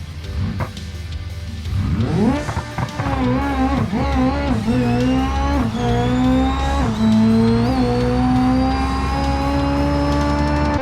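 An Ibishu 200BX drag car in the BeamNG racing game launches and pulls hard, engine note climbing sharply through several gear shifts with brief dips between them, loud and close over steady road roar.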